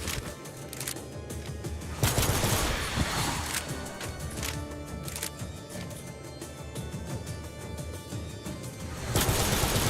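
Enemies in TimeSplitters Rewind open fire with rapid cracking shots and smashing impacts, a loud, close barrage that swells in sudden bursts over dense game noise.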